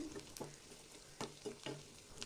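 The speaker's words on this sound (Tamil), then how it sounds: "இப்போ எண்ணெய் நல்லா சரியான சூட்டில் இருக்குது. இப்போ போடுறேன். பாருங்கள் எப்படி பொரிஞ்சு வருதுன்னு." Onion rice vathal dropped into hot oil, a quiet crackling sizzle with a few sharp pops and clicks over about two seconds.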